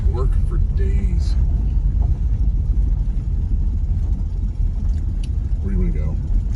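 A 1966 Oldsmobile Toronado barn find pulls on its first road test, a steady low engine rumble heard from inside the car, with brief voices talking over it.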